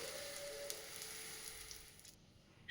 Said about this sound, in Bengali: পেঁয়াজি ভাজা বসিয়ে দিলাম